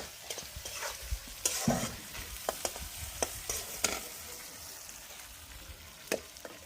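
Spice paste being fried in oil for a fish curry: a low sizzle broken by frequent scraping and clinking from a stirring spoon, close by and fairly quiet, with no talking.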